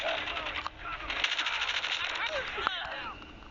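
Gunfire from the mobile shooter Call of Duty Mobile, including a Peacemaker rifle and a camping sniper, comes as rapid bursts of crackling shots and metallic clinks under in-game effects, fairly quiet overall.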